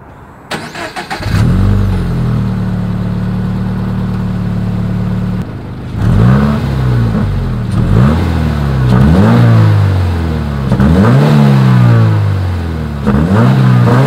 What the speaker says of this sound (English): Here is that 2020 Toyota 86 exhaust clip.